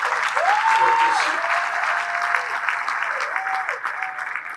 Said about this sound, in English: If you want to clap, you can do it better than that.